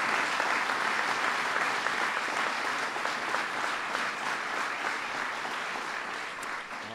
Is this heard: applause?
yes